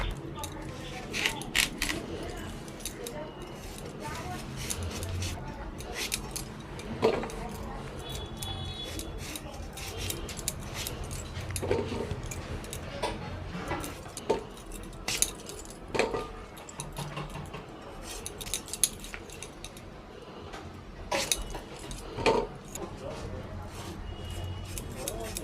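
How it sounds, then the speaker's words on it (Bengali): Knife cutting pumpkin and potatoes on a board, with irregular chopping taps and clicks spread through the stretch, close and moderate, while a person talks throughout. "এবার আমি কুমড়ো আলু কেটে নিচ্ছি"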